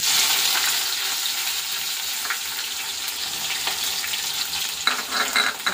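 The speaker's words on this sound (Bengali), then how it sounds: "এখন দিয়ে দেব সাদা জিরেটা, দিয়ে তেজপাতা আর পেঁয়াজটা ভেজে তুলে রাখবো।" Cumin seeds, a bay leaf and onion fry in hot oil, a continuous close sizzle with occasional stirring scrapes and small pops.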